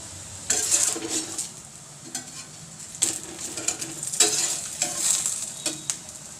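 Thepla flatbread frying on a pan in ghee or oil sizzles in bursts, with scraping and light metallic clinks from a spatula turning it and quieter pauses between.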